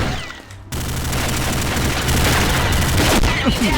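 Shotgun fire in the video game Combat Arms Reloaded, a run of loud, dense blasts and booming shots after a brief quieter moment, with a voice talking over part of it.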